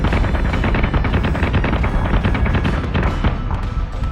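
Starship weapons fire in Battlestar Galactica Deadlock, a loud rapid stream of cannon shots thumping close together for several seconds without a pause.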